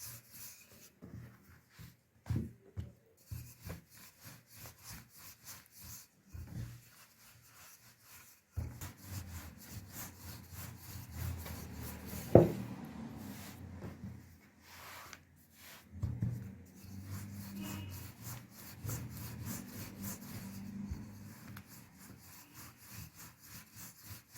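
Börek pastry dough is rolled out by hand on a board, giving soft, repeated rubbing and rolling strokes, close and quiet, in a rhythmic back-and-forth that grows denser midway.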